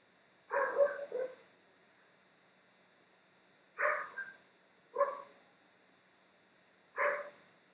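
A dog barks indoors, a double bark followed after a pause by three single barks, moderately close with quiet between them and no talking.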